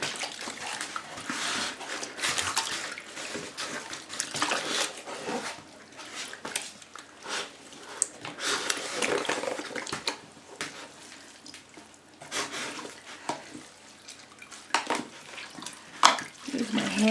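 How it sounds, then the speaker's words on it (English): Water squeezed by hand out of soaked toilet paper clay, heard as irregular wet dripping and splashing bursts close by with squelchy handling noises throughout, no talking. "And you'll see how much water actually comes out of it."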